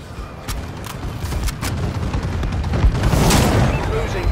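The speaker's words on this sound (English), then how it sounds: "Enemy bombing run overhead." Explosions from an enemy bombing run in Call of Duty: Advanced Warfare, a dense rumble of booms and blasts building in loudness over several seconds, with a voice speaking under the din.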